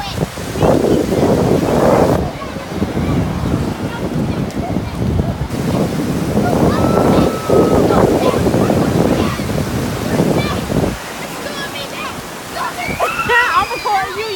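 Ocean surf at Daytona Beach rolls in as broad washing roars, loud and close with wind buffeting, easing to a quieter lull near the end, with voices talking and calling over the waves.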